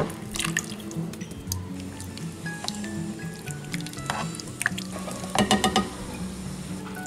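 A can of water is poured into a pot of chili with diced tomatoes, giving a steady wet splashing and gurgling with drips, close and continuous, with a denser glugging spell near the end.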